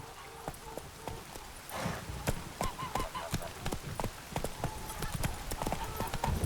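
A horse galloping in the video game The Witcher 3: fast, even hoofbeats strike in a steady rhythm, close and fairly loud, with no voices over them.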